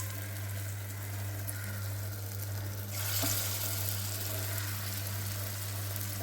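Raw banana kofta balls frying in oil, a steady broadband sizzle with a constant low hum, the bubbling growing a little louder and brighter partway through; no one speaks.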